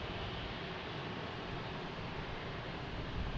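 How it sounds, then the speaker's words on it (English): An Airbus A380 lines up on runway 15 right at Boston Logan Airport for takeoff, heard as a steady, broad jet-engine roar at moderate distance, unbroken and without talk. "That A380 is going to line up on a 15 right"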